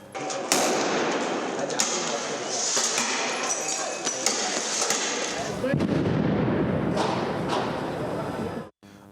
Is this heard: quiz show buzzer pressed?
no